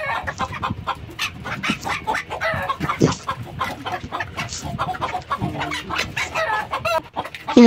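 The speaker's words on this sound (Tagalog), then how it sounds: "Ayaw po magsampa ng inahin." Micro bantam hen clucking steadily in a farm setting, a dense run of close, repeated clucks and chicken calls with other fowl sounds mixed in and no talking.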